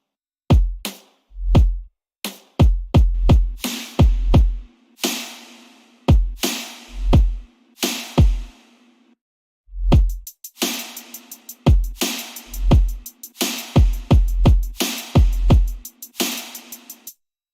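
A halftime drum loop from a future bass remix drop: punchy kicks and snares in a slow, heavy pattern with crisp hi-hat rolls in the second half, loud and dry with no voice.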